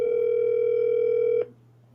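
A steady telephone tone plays loud and alone on a call for about a second and a half, then cuts off abruptly into a faint, quiet line.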